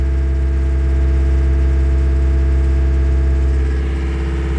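A John Deere tractor engine runs loud and close at a steady, high idle with a constant droning hum and no pauses, easing very slightly toward the end.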